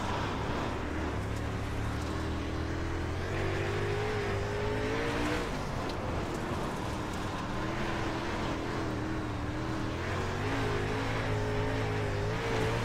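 A dirt super late model race car in iRacing circles the Kern County Raceway Park oval, its engine a continuous loud roar that rises and falls through the laps, with tire noise and no voices.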